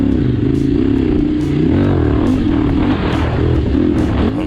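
A Kove 800X Rally motorcycle rides along a rough, bumpy dirt track, its engine droning steadily and shifting in pitch as the throttle varies, with clattering and scraping of the bike over uneven ground close by.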